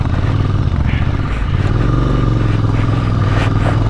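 A motorcycle labours up a rough, broken mountain road on Wari La pass, its engine a loud, close, continuous drone with clattering from the bike over the surface.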